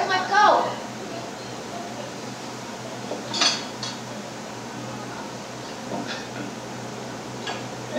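Dishes and cutlery clink faintly in a kitchen, with a few scattered clatters over a steady background hum while people talk.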